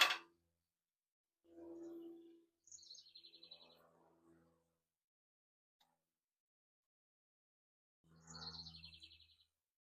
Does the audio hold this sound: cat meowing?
no